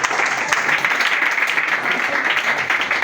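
Congregation applauding in a church during a prophetic deliverance service, dense steady clapping that fills the space without a break, with voices mixed into the crowd noise.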